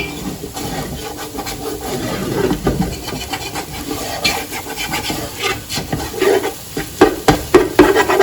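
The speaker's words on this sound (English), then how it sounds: "they're nice and scrambled now. You just break them down with your spoon." A spoon scrapes and breaks up scrambled eggs in a frying pan, with repeated scraping strokes over a low sizzle that grow louder and more rhythmic toward the end.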